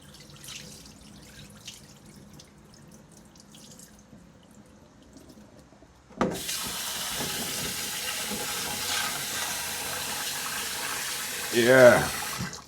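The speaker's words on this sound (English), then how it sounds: "That's how we wash the rice then." Running tap water pours over rice being rinsed in a kitchen sink while cooking Jamaican ackee and corned beef, starting suddenly about halfway through as a steady, close rushing splash, with a brief louder gush near the end.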